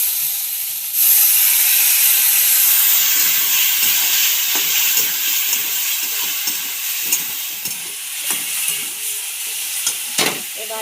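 Spice paste for an egg curry sizzles loudly in a pan as a little water goes in, a sharp hiss bursting up and then settling into steady frying with intermittent stirring scrapes.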